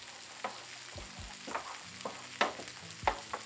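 Onion sizzles steadily in a hot pan over a live fire while a utensil scrapes and clatters against it every second or so.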